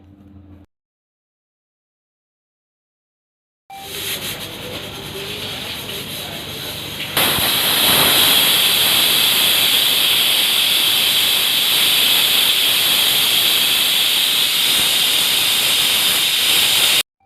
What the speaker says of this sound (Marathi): थोडी असेल ती वाफ कुकरमधली काढून घेतली